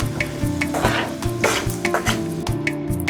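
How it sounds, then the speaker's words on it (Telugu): Tempering spices, green chilies and ginger pieces frying in oil over a low flame for mango rice, a continuous close sizzle with a steady crackle and occasional stirring scrapes. "సన్నని మంట మీద ఈ తాలింపు దినుసులన్నీ వేయించుకోవాలి."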